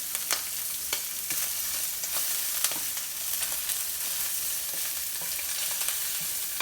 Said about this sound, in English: you can see how well the shrimp are cooking